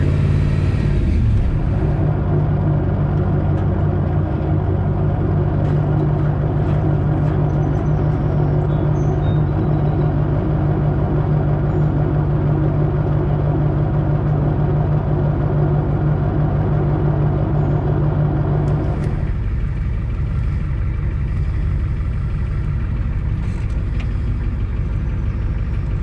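A diesel truck engine running on diesel fuel after switching back from a dual-tank setup drones steadily and close at idle or cruise, a constant low rumble with a slight shift in tone near the end, with no voices.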